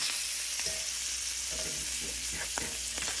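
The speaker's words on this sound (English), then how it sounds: "It's getting crisp, so I'm going to flip it." Salmon fillet fries in a pan over medium heat, a dense continuous hiss of sizzling fat up close, with occasional brief clicks and soft pops.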